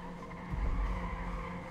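A car pulling away in the video game GTA 5 Online, with a loud low engine surge and a brief tire squeal or skid about a third of the way in, holding steady to the end.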